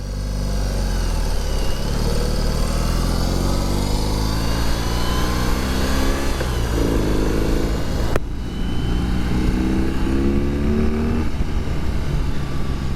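A 2021 BMW R 18 motorcycle with its 1800 cc German boxer engine rumbles steadily up close, loud and continuous, with the revs shifting partway through and no talk over it.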